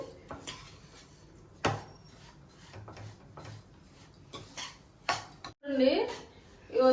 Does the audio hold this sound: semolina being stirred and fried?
yes